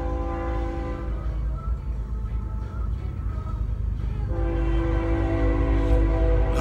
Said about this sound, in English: Apologize for the train